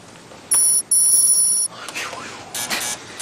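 A doorbell rings twice in a long, bright electronic chime in a TV drama scene, then a short text message alert sounds over faint background noise.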